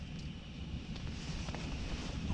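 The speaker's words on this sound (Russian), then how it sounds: "Ветрище задувать начал." Strong wind buffets the microphone outdoors on a winter burbot ice-fishing trip, a steady loud broadband roar with gusts throughout and no voices.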